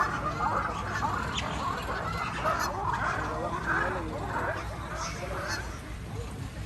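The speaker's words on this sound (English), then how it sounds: "You can see the black and white rough lemurs on your left there, making the territorial call." Loud, raucous chorus of black-and-white ruffed lemur territorial calls rising and falling continuously over a few seconds, with some faint voices mixed in.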